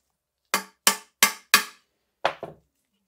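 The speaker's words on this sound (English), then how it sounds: "I'm gonna need a hammer." Hammer tapping a fork seal into place during a service of a 2022 FOX Float 34 FIT4 Step-Cast mountain bike fork: four evenly spaced sharp metallic taps, a pause, then a quick double tap, close and clean with no talk.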